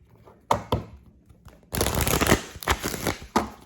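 Tarot cards are shuffled by hand at close range: a couple of sharp taps, then a longer riffling burst and a few more brisk slaps, with no speech over them.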